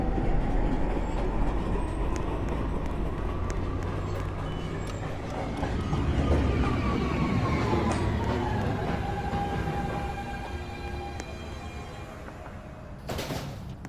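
A downtown local 1 subway train approaches 2 Av station at night, a loud continuous rumble and screech of wheels on rails building and holding, with clicking track joints and a sharp burst near the end.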